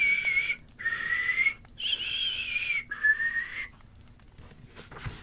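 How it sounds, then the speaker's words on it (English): Someone whistles a simple tune in four sustained phrases separated by short pauses, clear and close, with no talking. "He whistled all the way there, and he whistled all the way home."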